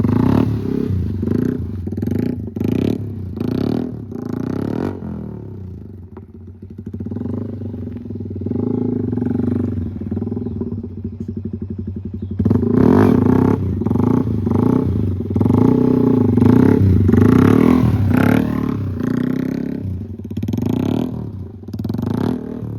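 A motorcycle ridden slowly on a low, steady throttle during a wheelie demonstration, its engine putting out a continuous rumble with a quieter stretch in the middle, then a stronger pulsing idle near the end, with clattering mechanical noise throughout.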